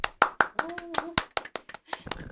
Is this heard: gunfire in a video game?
no